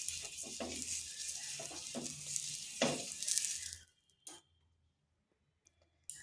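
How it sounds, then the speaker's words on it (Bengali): Oil sizzles on a hot tawa griddle set up for rice-flour chakli pitha, a bright, close hiss for about four seconds that cuts off into near silence broken only by a few faint clicks. "এখানে একটা তাওয়া বসিয়েছি। এরপর দিয়ে দিচ্ছি তেল।"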